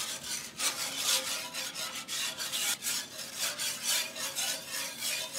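A whisk scrapes steadily across the bottom of a pan, lifting browned bits of steak into a milk gravy, making a faint, rapid, raspy rubbing rhythm that repeats close by with no talking.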